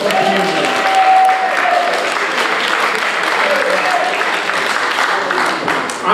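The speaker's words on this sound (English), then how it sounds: "Give yourself a big round of applause for the evening." A large audience applauds steadily throughout, a dense wash of clapping at an evening community gathering marking a centennial, loud and sustained with a faint tone briefly audible behind it.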